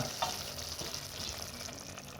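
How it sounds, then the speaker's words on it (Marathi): An egg masala omelette mixture with green chilli and coriander sizzles and fries steadily in a hot pan, a close, even crackling hiss with light stirring scrapes. "जे मिश्रण आहे आपण जे कालवलेलं आपण याच्या असं हळू सोडणार आहोत"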